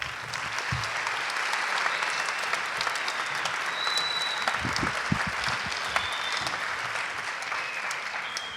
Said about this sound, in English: Let's give the MacArthur String Quartet one last round of applause.